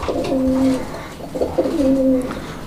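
Raj-golla pigeons coo close by, giving two clear, smooth throaty coos about a second apart against a quiet background.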